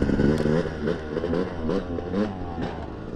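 A dirt bike engine at a cliff-jump spot sputters to life and revs, a rough close-up buzzing motor rising and falling in short bursts.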